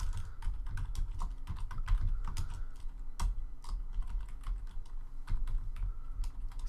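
Rapid, uneven keystrokes on a computer keyboard, close and fairly quiet, with occasional heavier taps, no voices.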